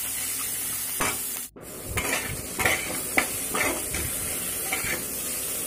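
Vegetables and rice frying in a pan, with a close hiss and repeated scraping strokes of a utensil against the metal, one sharp knock partway through, and no talk.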